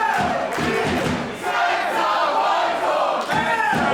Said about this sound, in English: Once again, you hear a lot of support for Senza Volto.